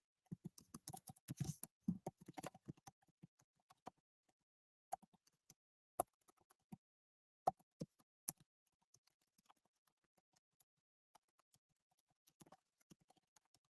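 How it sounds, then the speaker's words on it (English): Soft, sparse taps and clicks from a computer keyboard being typed on nearby, in quiet irregular bursts with long pauses between. "You can hear me typing probably."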